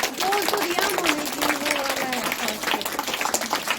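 Students and staff at a school certificate distribution for cooking and solo dance winners clap steadily and loudly, the applause continuous throughout with voices faintly mixed in.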